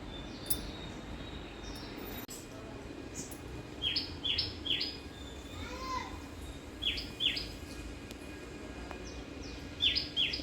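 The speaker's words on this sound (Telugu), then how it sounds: "చిట్టిపిట్ట ఆటలు చూడండి ఎట్లా ఆడుకుంటుందో" Small birds in a garden give short, high, bright chirps in quick bursts, repeating every few seconds over a quiet outdoor background.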